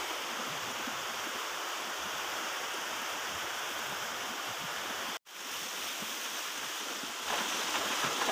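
A mountain stream rushes steadily, a dense continuous roar of flowing water, close and loud, broken only by a brief cut near the end.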